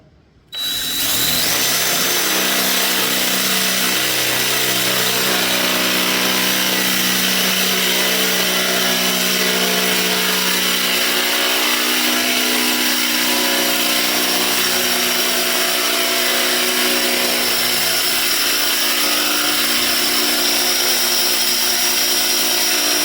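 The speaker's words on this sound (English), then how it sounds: "That's a 3/8 drill bit." A power drill with a 3/8 drill bit bores into the hood of a 2018-or-later Ford Mustang, whirring loudly and steadily after a short start, running continuously with no talking.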